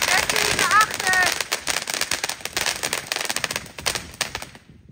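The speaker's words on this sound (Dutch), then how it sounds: "Ik ben bang voor vuurwerk" Rapid bursts of firecrackers, including a 100,000-shot Belgian string, crackle and pop in a dense volley, with whistling rockets early on, loud and nearby, fading out at the end.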